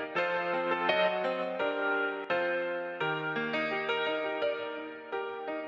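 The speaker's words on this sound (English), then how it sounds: "What you just heard right now was mid-side ducking on the M32." A dense mix of sustained chords and melody runs continuously with steady loudness and slight periodic dips, processed with mid-side ducking on a Midas M32 mixer. No voices.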